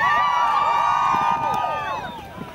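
A crowd cheers and whoops for a jumper at an outdoor polar plunge, with loud overlapping shouts and high excited voices rising together and then tapering off.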